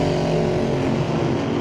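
Drag racing dragsters at Mission Raceway Park rumble and rev at the strip during qualifying, a loud, dense engine roar that holds steady throughout with no talk.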